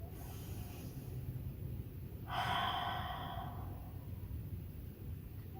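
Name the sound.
breathing in through the nose during yoga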